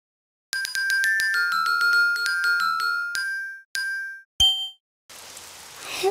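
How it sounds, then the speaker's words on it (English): Bright chiming tones ring out in a rhythmic melody, then give way to a soft, steady patter of rain at the end. "It's raining outside."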